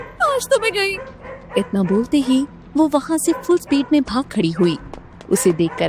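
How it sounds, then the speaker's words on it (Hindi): Dogs bark behind someone narrating a dramatic Hindi-Urdu romance story, the barks mixed low under her continuous voice as if chasing someone. "उसे अपने पीछे से कुत्तों की भौंकने की आवाज आई"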